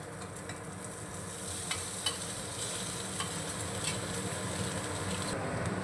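Soybean paste being stirred and fried with spices in a pan, a steady close sizzle with occasional scraping knocks of the spoon against the pan, no voices.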